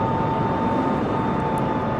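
Large aircraft engines drone steadily in flight while the plane is throttled down over the Las Vegas Strip, a continuous loud broadband roar with a faint steady tone above it and no talk.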